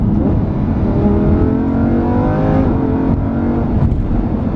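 A 2015 Lamborghini Huracán LP610-4 engine revs up through downshifts, with loud, sustained rising and falling exhaust tones that climb steadily and then drop back, heard close and alone.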